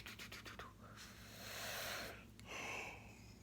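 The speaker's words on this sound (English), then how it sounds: "Sorry, I'm yawning." A long, breathy yawn swells and fades over a couple of seconds, close and soft, with faint rustling before and after.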